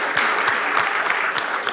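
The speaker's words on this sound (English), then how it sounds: "Round of applause." Audience at a high school history quiz bowl applauding the competing teams, a dense even patter of many hands clapping, loud and close, sustained for the whole stretch.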